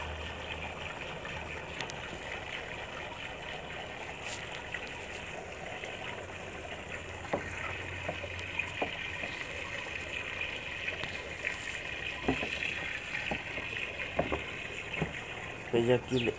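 Water runs steadily from a hose into a large water jug at a ranch in the morning, a continuous hissing gush that stays fairly quiet and even, with a few small knocks and clatters near the end.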